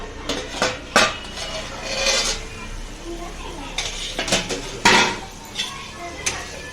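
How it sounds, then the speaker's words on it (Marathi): A metal lid lifted off a cooking pot of cluster beans (gavar) in a home kitchen, giving sharp clinks and clatters of metal on metal at irregular intervals, close and fairly loud, with a voice talking. "आपण झाकण काढून बघूया"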